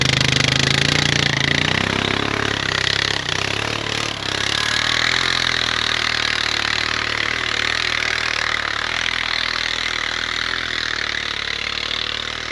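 Honda 420 Rancher ATV engine revving hard while hauling logs through snow, a loud, close, steady droning roar that surges briefly early on, then holds at high throttle.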